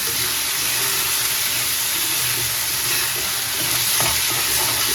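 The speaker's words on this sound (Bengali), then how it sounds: "এবারে ভালো করে এপিট সেপিট এপাশ ওপাস আপাশ করে ভালো করে ওটাকে মেখে নেবে যাতে মশলাটা ভালোভাবে লেগে যায়" Spiced food being stirred and tossed in a hot frying pan, a steady loud sizzle and hiss with soft scraping of the spoon running throughout.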